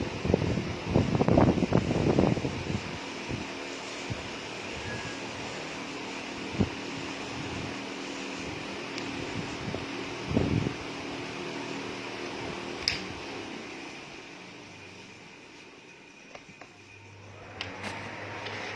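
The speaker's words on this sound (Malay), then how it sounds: "Gangguan bunyi ialah kipas." A steady, low whirring hum of an overhead ceiling fan runs throughout, with a few faint clicks and thumps nearby.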